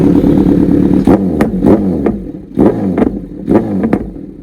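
A Kawasaki sport bike's loud, raspy exhaust with the dB killer removed is revved in a series of sharp bursts, each rising and falling quickly, heard up close.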